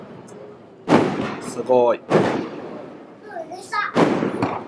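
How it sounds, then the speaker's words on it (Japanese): Night fireworks at the ANA InterContinental Ishigaki Resort burst in three deep, booming explosions spaced a second or two apart, with crackling between them. People talk and react throughout. "花火がね始まりましたよ"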